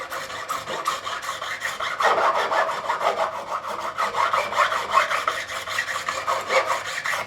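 A metal file rasps steadily against guitar fret ends on an ESP E-II Eclipse, deburring them in repeated close, scratchy strokes that keep an even rhythm throughout with no talking.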